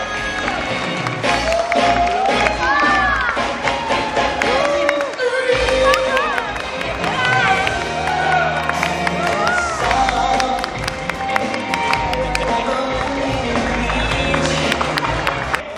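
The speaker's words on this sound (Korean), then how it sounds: "뜨거운 박수 보내주시기 바랍니다." Guests at an international Korean-Vietnamese wedding clap and cheer in a lively, continuous burst, mixed with voices and background music.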